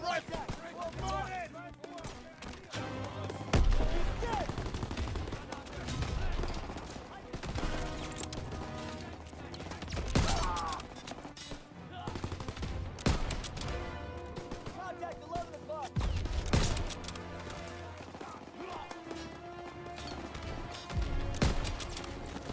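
Battle gunfire from the World War II shooter Call of Duty WWII during a walkthrough of Operation Cobra, with scattered shots and explosions mixed under voices and music.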